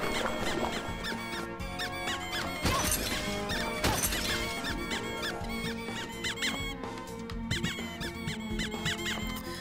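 Repeated squeaking-toy hits from the toy shoes weapon in Bloodstained: Ritual of the Night, recurring in rapid succession over loud game music, with occasional smashing and breaking impacts mixed in.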